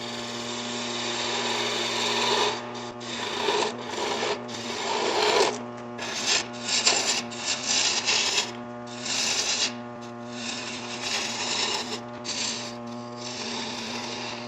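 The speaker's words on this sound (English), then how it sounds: "So we'll start off with just bowl gouge, take off a little more material on these." A bowl gouge cuts wood on a spinning lathe while a wig stand is being turned. It makes a continuous droning hum with rough, scraping cutting noise that swells and eases in uneven passes, loud and close, with no talking.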